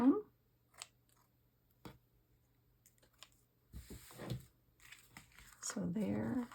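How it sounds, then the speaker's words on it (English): Scissors trimming the ends of paper for a tuck-spot journal, a few sharp close snips and crinkles separated by quiet gaps, with someone talking near the end. "So I am going to cut off the ends of this because they're a little"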